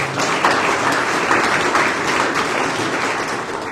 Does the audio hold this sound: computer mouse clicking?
no